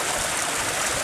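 A stream of water runs down a hillside in a steady, close rushing trickle, a continuous broadband wash heard alone without voices.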